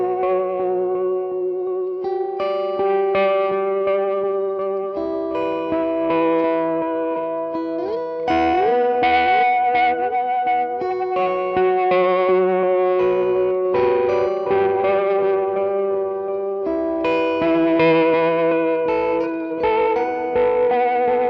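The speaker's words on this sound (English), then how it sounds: "There are a bunch of different sounds that you can get out of this pedal" Layered sustained guitar tones run through an effects pedal for soundscape textures, with chorus, echo and reverb shimmering over held chords, loud and continuous with no talking.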